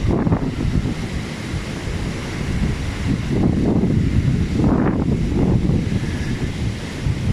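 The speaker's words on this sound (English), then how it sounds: "The waves are much bigger than usual because this is the rainy season, and this wave action is usually on the other side of the island." Large waves break on Boracay's White Beach in the Philippines during the rainy season, a continuous roaring surf with repeated surges, mixed with gusty wind buffeting the microphone.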